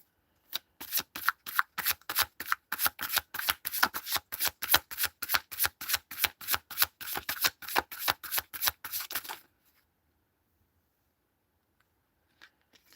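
Tarot cards being shuffled in rapid, steady riffling bursts, about thirty crisp close-up pulses over nine seconds, then near silence with a faint tap or two.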